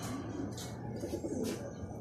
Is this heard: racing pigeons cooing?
yes